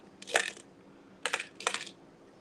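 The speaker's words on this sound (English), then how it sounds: "I'm just looking through these glass tips, trying to figure out which one we can pull out." Small glass smoking tips rummaged by hand, three short bursts of bright clinking and rattling up close, the first alone and the last two in quick succession, no talk.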